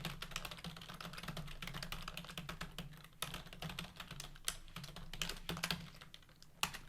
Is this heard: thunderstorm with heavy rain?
no